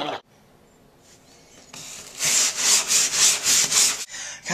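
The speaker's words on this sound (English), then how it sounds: "When you're scrubbing really hard, it takes a lot of elbow grease." Someone scrubs a bathroom hard with a brush, making rhythmic rasping strokes. About eight quick, loud, close-up scrubs come in a regular back-and-forth pattern after a quieter start.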